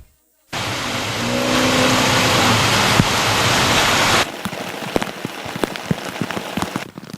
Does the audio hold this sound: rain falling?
yes